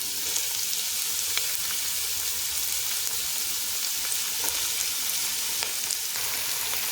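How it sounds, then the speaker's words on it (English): Onions sizzle steadily in hot avocado oil with salt added, a dense continuous frying hiss with faint crackles throughout and no talking. "in here I have some avocado oil that I'm using. So I just added that on there, and I'm just going to add the onions"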